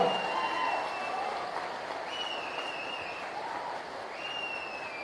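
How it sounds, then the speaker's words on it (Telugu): A crowd applauds at a Telangana political campaign event for Bandi Sanjay, a sustained, moderately distant clapping wash with a faint tonal whine drifting over it. "అందరి చేతులు పైకెత్తురు పైకెత్తి చప్పట్లు కొట్టాలి గట్టిగా"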